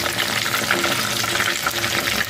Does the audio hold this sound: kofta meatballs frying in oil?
yes